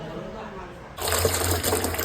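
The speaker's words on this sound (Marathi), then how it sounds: "बोरवेलला पाणी बघा किती फास्ट" Water from a borewell pump motor pours out of a pipe, a sudden loud gushing splash that starts partway through and continues steadily after quieter background noise.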